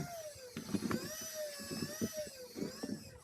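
NTF hobby scale winch paying its load back out, a steady high motor whine running throughout the short span, close by, with faint knocks and rattles underneath.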